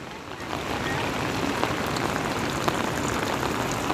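A swollen river rushing in heavy Konkan monsoon rain gives a dense, steady roar of water and rain, loud and close, with no break.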